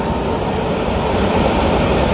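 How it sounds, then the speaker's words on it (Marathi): An airplane taking off at Mumbai International Airport, heard as a loud, steady broadband engine roar that holds constant throughout, with no voices. "इथून टेकअप होता ते बघा हा आता टेकअप होतोय बघा"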